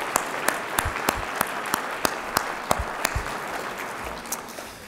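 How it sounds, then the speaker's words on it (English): Applause at a university Founders Day program, heard as sparse, evenly spaced sharp claps repeating about three times a second, close and distinct rather than a dense crowd roar. "please give a big round of applause for Bruce and Apogee for the great work that they've done."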